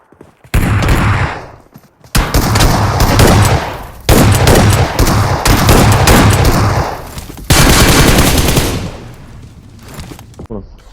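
Rapid bursts of gunfire from a shooter video game, including shotgun blasts, come loud and close in several dense volleys separated by brief pauses, with players' voices talking over the action.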